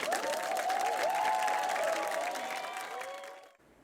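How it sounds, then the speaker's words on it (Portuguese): Sustained clapping from a studio audience on a Brazilian morning TV show, with voices cheering and calling out over it, fades away near the end. "as palmas para o Senhor Jesus"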